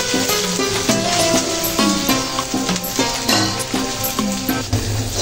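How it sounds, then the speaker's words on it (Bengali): Garlic and ginger paste sizzles and fries with onions in hot oil for a fish curry, a steady loud hiss broken by repeated scraping stirs of a utensil against the pan. "রসুন আর আদা বাটা, আদা আর রসুন বাটাগুলো অ্যাড করে নিচ্ছি।"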